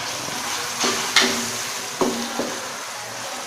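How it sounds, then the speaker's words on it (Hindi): Green chilies and tomatoes hit light-brown frying onions in a pan over a medium flame, setting off a steady sizzle with a few sharp knocks and scrapes as they are stirred, close and fairly loud, no voice. "अब मैं इसमें सबसे पहले ये सब्ज़ मिर्चें और टमाटर डाल रही हूँ।"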